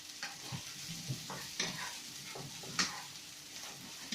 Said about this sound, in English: let the mushrooms fry a little bit before you put any salt, because you want the mushrooms to be covered with the oil